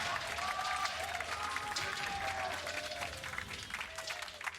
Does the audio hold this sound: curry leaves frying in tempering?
no